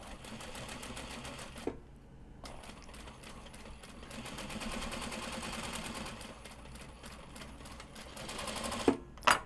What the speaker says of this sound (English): I don't need back stitching, just stay stitching